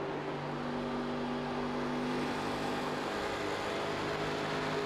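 A race car engine drones steadily on track at Las Vegas in an FTF Cup Series race, a constant dense roar heard onboard without pause.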